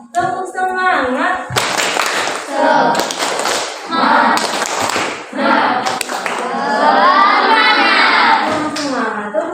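A classroom group performs the 'tepuk semangat' spirit clap, with loud rhythmic clapping in bursts mixed with children chanting and shouting in unison.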